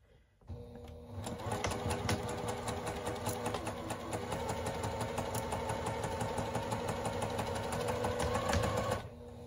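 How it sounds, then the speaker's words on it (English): A sewing machine runs steadily, stitching across a baby quilt in one continuous, even mechanical whir that starts abruptly and stops near the end. "And then sew across."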